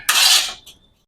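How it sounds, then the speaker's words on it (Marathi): A single knife stroke through a lemon on a board while making traditional village-style lemon pickle, a brief crisp slicing swish that ends in a faint metallic ring. "असे हे लिंबू आपण कापून घेणार आहेत."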